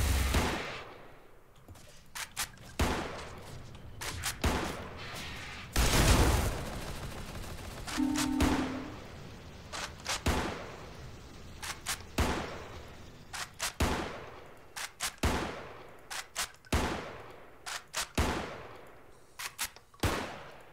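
Repeated gunfire in the Space Station 13 video game, sharp shots fired down an alleyway in irregular bursts, loud and close, with one heavier blast midway and no talk over it.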